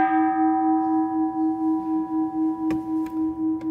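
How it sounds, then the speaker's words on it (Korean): A bell struck once with a long, sustained ringing tone that slowly fades, with a few faint clicks near the end; no talking. "이 종소리의 귀를 싹 기울이죠"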